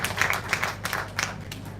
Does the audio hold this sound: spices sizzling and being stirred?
no